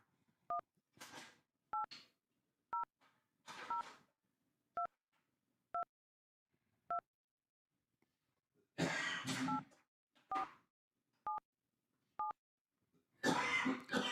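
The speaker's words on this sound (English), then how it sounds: "Let me phone that number." Touch-tone telephone keypad dialing a number, about a dozen short evenly spaced dual-tone beeps rising clearly above a quiet line, with bursts of broadband noise, like rustling or coughing, between groups of tones.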